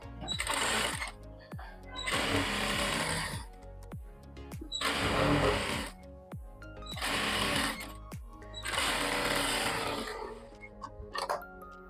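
A sewing machine stitches a strip onto a blouse in five bursts of rapid mechanical whirring, each a second or two long and separated by short pauses, close and clear with no talk.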